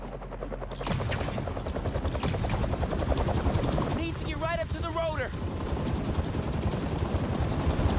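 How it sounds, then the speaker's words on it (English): A rapid, rhythmic chopping of helicopter rotor blades thumps continuously, mixed with bursts of gunfire-like crackle and synthetic game effects, in Marvel's Spider-Man 2. "Something like... a helicopter's blades."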